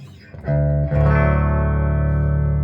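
A clean electric guitar on the bridge pickup, played through a Boss Katana MK3 amp head with all effects switched off, rings out as a couple of struck chords that sustain evenly and up close.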